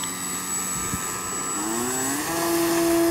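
Radio-controlled model airplane taking off outdoors, its small motor whine steady and then rising in pitch as it climbs away, loud and continuous with light wind noise underneath.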